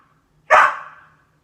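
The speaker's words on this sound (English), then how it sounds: "what are you barking at? Are you barking at my apple?" A single sharp, loud bark from a small poodle-type dog indoors, barking at an apple on the floor, with quiet before and after.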